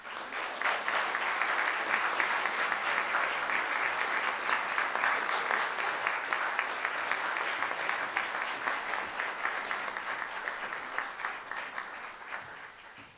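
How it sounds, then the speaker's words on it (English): A crowd at a Martin Luther King Jr. celebration in Davis applauds warmly after a speech, with sustained, thick clapping for over ten seconds that gradually thins and fades toward the end. "Let's give another hand. Round of applause."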